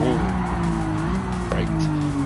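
Race car braking hard in Gran Turismo 7 during a daily online race, a sustained tire squeal and skid over a steady engine drone, loud and close throughout.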